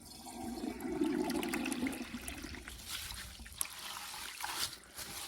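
A 2002 Crane Atlas toilet, partly leaky, flushes with a rushing whoosh that swells early, then drains to a gurgling trickle and dribble as the bowl empties.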